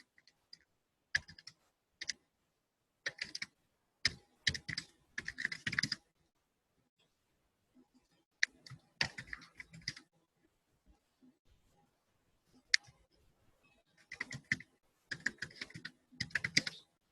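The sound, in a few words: typing a number on a computer keyboard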